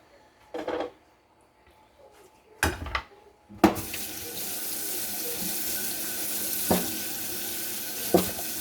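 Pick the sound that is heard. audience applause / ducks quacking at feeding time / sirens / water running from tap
water running from tap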